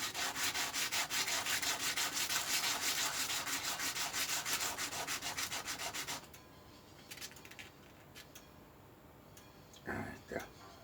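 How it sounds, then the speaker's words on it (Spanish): A small metal clock anchor part is rubbed back and forth on sandpaper to sand one side, a steady rhythmic rasping for several seconds that stops abruptly, followed by a few light clicks and a brief voice. "En una lijita cualquiera, vamos a lijar solo un costado,"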